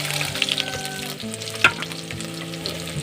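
Onion and garlic sizzle and fry in hot rendered oil for Ilocano lumo-lumo, a steady crackle up close with clinks of a utensil stirring the pan.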